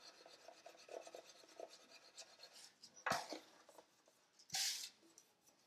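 Steel wool rasps back and forth across a guitar fingerboard in soft, repeated rubbing strokes, with two louder, sharper scrubbing bursts near the middle and the end.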